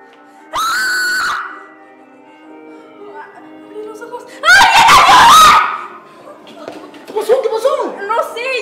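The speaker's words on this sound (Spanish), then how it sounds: "Lo primero que hice fue gritar." A woman screams at a party after finding someone lying on the floor, with two loud, shrill, wavering cries close by separated by a quieter gap, followed by softer voiced sounds.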